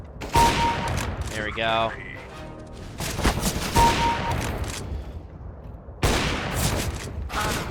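Gunfire in Counter-Strike: Global Offensive comes in loud repeated bursts of rapid shots, separated by brief pauses. A player talks briefly between the volleys.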